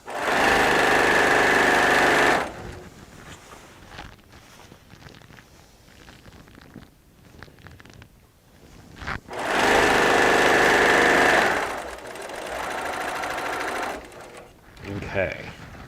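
A sewing machine stitches a quilt seam in two long, loud runs of steady motor whir at the start and again in the middle, with a quieter, busier stretch between them where someone talks.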